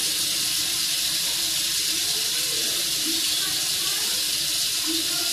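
Tap water running steadily over upper and lower dentures as they are rinsed, a constant close hiss of flowing water with faint clinks, no talk.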